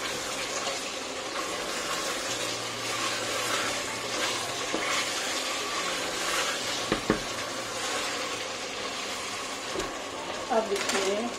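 Masala for palak gosht fries in a pan over low heat, a soft continuous sizzle under occasional stirring and a few sharp clinks of a spoon against the pan.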